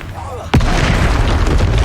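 A sudden deep boom from the Bombarda blasting spell in the Hogwarts Legacy video game, going off once mid-clip over game music and ambience.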